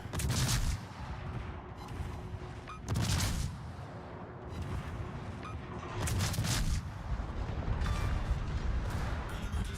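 Video game gunfire erupts in loud, heavy bursts of shots and booms, several volleys separated by short lulls, with a rumbling battle din filling the gaps between them.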